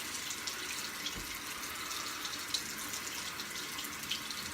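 A tap runs steadily while someone rinses their face after shaving, a soft continuous water hiss with faint splashes, heard alone at low volume.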